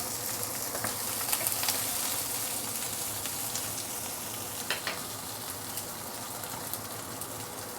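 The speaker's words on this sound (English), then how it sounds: "Once the garlic started to brown, we can actually put in the capsicum. Stir fry it a bit." Garlic and capsicum stir-fry in a pan for sweet and sour fish, with a steady close sizzle and the occasional scrape of stirring throughout.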